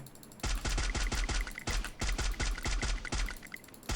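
Close automatic gunfire from a Free Fire match cracks out in rapid bursts. Sharp, loud, evenly spaced shots come roughly five to six per second after a short quiet start, with brief pauses between the bursts.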